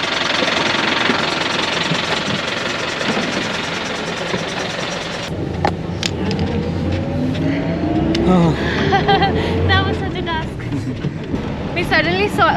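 A bus engine runs steadily during a ride on the Annapurna Circuit in Nepal, a loud continuous rumble with rattling and road noise, and people talking throughout.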